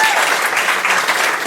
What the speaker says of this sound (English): Another round of applause for Ron Hart.